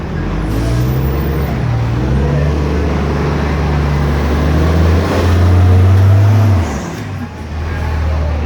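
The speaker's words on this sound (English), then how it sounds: "Coming by a big smelly diesel bus." A big diesel bus drives past close by, its low engine drone rising and swelling as it nears, then easing off and settling back into a steady hum.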